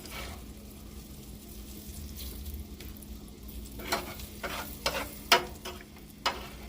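Onions frying in a pan while being caramelized, a steady low sizzle with occasional sharper crackles and spatters growing more frequent toward the end.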